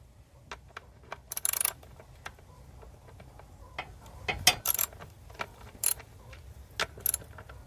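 A ratchet loosens two 8mm bolts on a Ford Mustang purge valve, giving close, sharp clicks in quick irregular runs with brief metallic rattles and short pauses between them.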